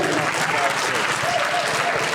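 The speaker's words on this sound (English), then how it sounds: "Give them a round of applause again, guys." A conference audience breaks into a steady, dense round of applause that holds at the same loudness throughout, with no voices heard over it.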